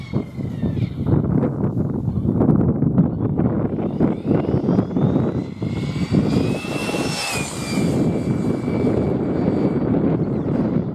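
A Losi 8ight RC car on 6S batteries makes a speed run, its electric motor whining loudly and climbing in pitch as it passes, over steady outdoor rumble with no talk.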